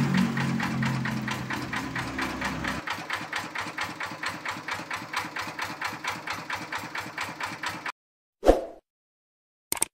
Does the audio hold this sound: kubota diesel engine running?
yes